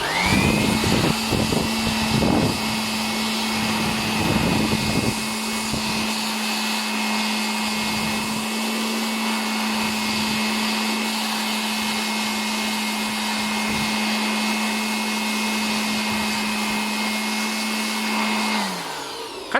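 A hair dryer blows steadily on an Epson printer print head to dry it, a loud continuous whirring hum that holds for nearly twenty seconds before winding down at the end, with faint handling noises early on.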